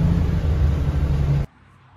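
A 1980 Chrysler Cordoba LS engine runs at a steady low idle in the rain shortly after starting, a close, even rumble that cuts off abruptly near the end.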